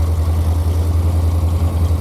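A 1984 Corvette with a 5.3 LS swap idling through the factory exhaust with the cats removed, a steady deep low burble, loud and close, with no talk.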